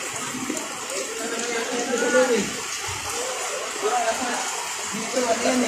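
Floodwater flowing in Maysan, Valenzuela during Typhoon Karina, with floating sacks of scrap and trash: a constant, dense rushing wash that stays even and fairly loud throughout.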